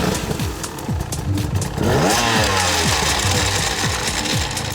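An enduro motorcycle revs and climbs a steep hill on a tower hill climb, its engine rising and falling in repeated throttle bursts, loud and close, with no voices.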